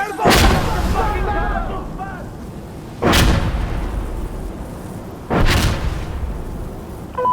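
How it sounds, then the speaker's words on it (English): Three heavy, booming blasts about two to three seconds apart, fairly close and loud, in a combat scene from the video game Insurgency Sandstorm where a grenade is thrown. A low rumble continues between the blasts. "I'm throwing a grenade!"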